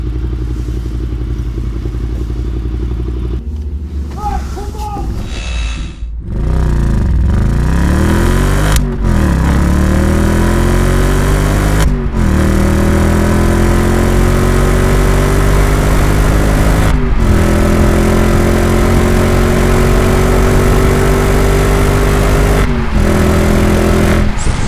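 An Audi S4 engine revving hard on country roads, loud and close, pulling steadily up through the full rev range in long rising sweeps broken by brief dips at each gear change.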